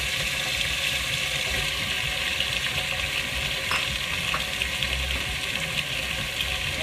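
Onions and a turnip frying in a pan, giving a loud, steady, hissing sizzle throughout with faint stirring scrapes, close up and with no talking.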